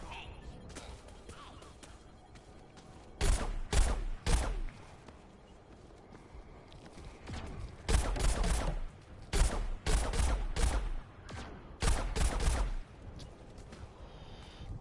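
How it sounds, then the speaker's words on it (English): Machine gun fire erupts in Plants vs Zombies Garden Warfare 2 as a character with a super machine gun shoots. Loud, rapid bursts of a few seconds each repeat over a quieter game backdrop. "Supremo has a super machine gun here."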